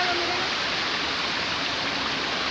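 Water rushing steadily along a channel toward a dam, a continuous broadband roar with no break, close and loud throughout, with no voices heard.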